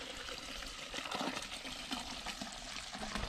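Water sloshing and trickling inside a can as it is refilled to rinse leftover dye from its sides and bottom during trap preparation, a steady close wet swirl with small splashes and no talk.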